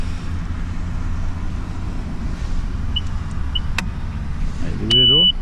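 A Zontes 350E scooter being switched on gives a few short electronic beeps followed by a steady tone, over a low idling rumble, heard close and clear.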